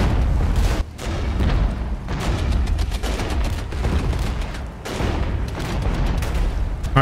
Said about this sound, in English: And now our tanks are engaging.